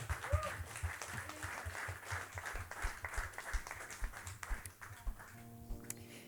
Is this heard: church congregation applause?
yes